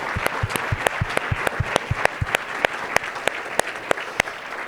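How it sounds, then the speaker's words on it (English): A lecture audience applauds its sponsors, a steady wash of many hands clapping with a few louder, sharper claps standing out near the front, sustained evenly throughout with no talk over it. "Let's give all our sponsors a round of applause."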